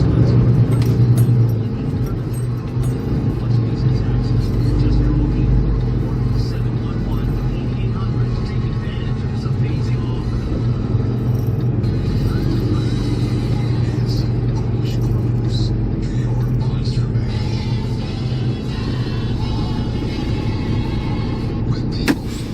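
A loaded truck driving on the highway on a run toward Oshkosh, Wisconsin, giving a steady, loud low engine and road rumble that holds evenly throughout with no talk.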